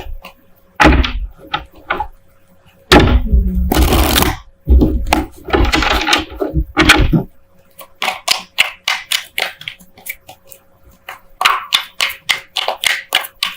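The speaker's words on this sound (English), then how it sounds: "while I'm shuffling" Tarot cards are riffled and shuffled in quick bursts of papery flutter, followed by a run of rapid taps, close up and with no voice.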